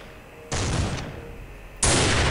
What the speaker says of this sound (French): il y a un fou qui me tire de là-bas